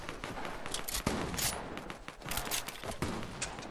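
Bursts of gunfire in Fortnite, a rapid fusillade of sharp shots in uneven clusters, moderately near but fairly quiet overall, with faint scraping movement between volleys.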